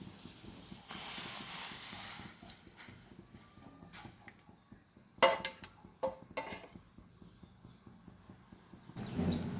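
Water bubbles at a quiet, low rumbling boil in a pot as ragi flour mixed with water is poured in, with soft rhythmic pops and a faint hiss of steam, plus a few brief clinks.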